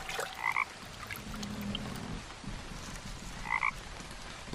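Two short double croaks from a frog in a swamp scene of the Mystery Case Files: 13th Skull game, spaced a few seconds apart over quiet ambient background.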